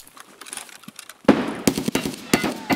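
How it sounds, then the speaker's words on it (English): A thrown grenade in the Escape From Tarkov shooter goes off with a sudden loud burst, followed by several sharp, gunfire-like cracks in quick succession after a quieter stretch of faint movement sounds. "So I'm gonna use a nade"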